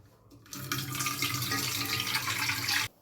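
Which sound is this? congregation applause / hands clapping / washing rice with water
washing rice with water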